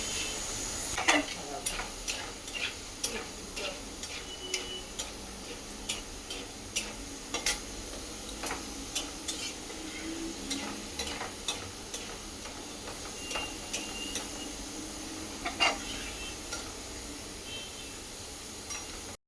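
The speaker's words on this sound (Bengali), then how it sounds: "তো এই যে রাঙালুগুলোকে এইভাবে ভেজে নিয়েছি একদম ঝুরি ভাজার মতন" Sweet potato shreds frying in a pan, a low continuous sizzle under frequent light ticking scrapes and taps of a spatula stirring throughout, fairly close and moderate in level.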